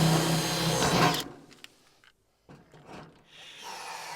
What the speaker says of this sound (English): John will be riveting while I'm drilling